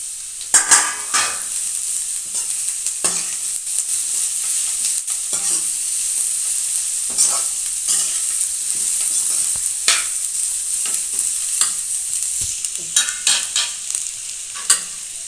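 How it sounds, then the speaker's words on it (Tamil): Shredded cabbage and capsicum sizzle in a hot pan while being stirred, with a steady frying hiss broken by repeated scrapes and clinks of a spatula against the metal, close and without talking. "இப்போ பார்த்தீங்கன்னா குடமிளகாயும் முட்டைகோசு வதங்கிக்கிட்டு இருக்கு"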